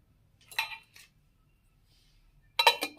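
A metal lid goes onto a cooking container on the stove, setting off two short clinking bursts, one early and one near the end, with quiet in between and no talk.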